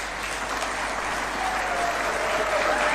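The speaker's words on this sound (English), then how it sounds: "Let's clap for that" Sustained applause from a large audience at a State House tax day awards ceremony, steady and fairly loud, swelling slightly toward the end, with a faint voice in the background.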